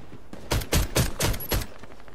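Sig Sauer 226 pistol fires five quick, evenly spaced shots in a video game, each one a sharp, loud crack, with the sounds standing alone and no talking over them.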